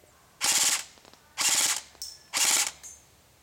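An ECHO 1 Zombat Stryker airsoft gun fires on full auto in three loud bursts, each a rapid clattering string of shots lasting about half a second, separated by short pauses.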